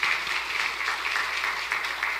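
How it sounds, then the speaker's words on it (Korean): A church congregation claps in welcome during a Sunday worship service, a steady, dense patter of many hands filling the room without break. "우리 환영의 박수 부탁드립니다"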